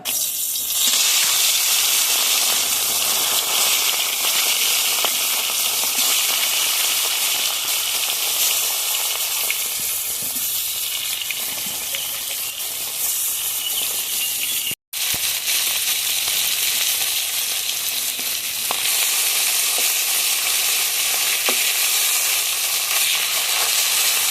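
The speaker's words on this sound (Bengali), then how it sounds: "তেল গরম হয়ে গেছে এখন মাছগুলো দিয়ে ভেজে নেব" Fish pieces fry in hot oil in a wok, a loud, dense, continuous hiss and crackle lasting throughout, briefly cut off once midway, with no voices.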